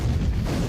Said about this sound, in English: Let's hear some skyrockets here.